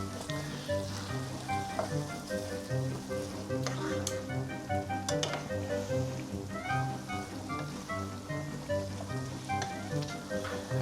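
Food sizzles in a pan while it is stirred, a steady close frying hiss with occasional scraping clicks, under a continuous layer of background music and no spoken words.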